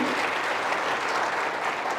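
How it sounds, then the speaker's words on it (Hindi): A concert audience gives loud, dense applause for santoor and tabla musicians, an even and continuous roar of clapping. "एक बार जोरदार तालियां इनको लिए भी"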